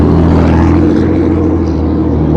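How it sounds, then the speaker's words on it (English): A loud pickup truck rumbles past on a street in Greenville, Kentucky, its deep engine drone filling the scene close and steady throughout. "There's our loud Kentucky pickup truck."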